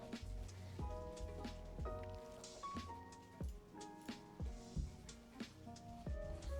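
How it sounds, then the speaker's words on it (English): Hail falls outside as a steady patter of small hits, with sharper irregular knocks on top of a continuous wash. "Well, it's hailing outside."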